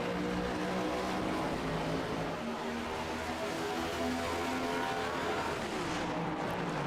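Stock race cars roar around the Charlotte Roval road course in a Cup Challenge race, several engines droning and shifting pitch together in a loud, continuous wash of racing noise, heard without commentary.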